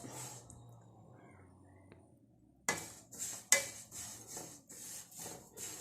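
Washed, dried sesame seeds roast in a hot pan. After a quiet start, a utensil stirs them with a steady rhythm of faint scraping, rattling strokes against the metal.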